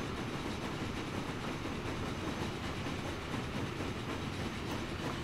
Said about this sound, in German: Oh, da kommt gerade ein Zug an.